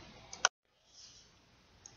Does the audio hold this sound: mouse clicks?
yes